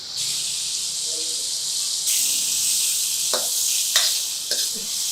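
Onion and garlic fry in hot mustard oil in a pan, a steady bright sizzle with a few louder stirring scrapes toward the end and no talk.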